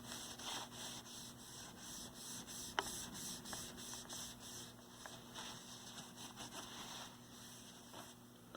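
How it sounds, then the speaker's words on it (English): Cloth rubbing down and cleaning the case of a 1967 Sony 4R-51 six-transistor AM radio, steady soft scrubbing strokes with a few light clicks, close and quiet over a faint electrical hum. "And let's just rub this thing down."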